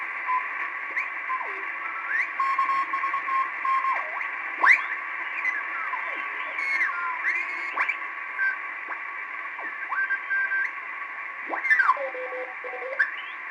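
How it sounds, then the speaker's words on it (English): Morse code CW tones received on a Hammarlund HQ-170 radio, several overlapping whistling signals with drifting pitch and short keyed beeps over steady receiver hiss, fairly loud and continuous. "That's known as CW or Morse code."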